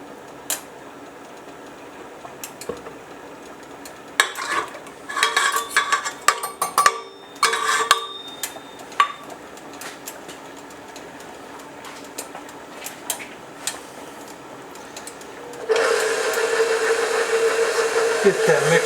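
An electric mixer whips heavy cream in a chilled metal bowl, a steady whir with clattering bursts early on and a louder, denser whine near the end, with no talk over it.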